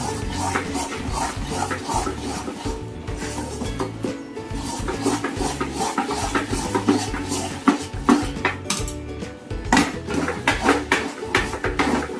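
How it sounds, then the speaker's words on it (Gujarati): Thick peanut Mysore pak mixture with ghee stirred continuously in a wok: dense, close scraping and clattering of a spoon against the pan in a busy, uneven rhythm, with no talk. "થોડું ઘટ્ટ હોય એટલે હલાવવામાં થોડી તકલીફ પડે, પણ એને આપણે સતત હલાવતા રહેવું પડશે"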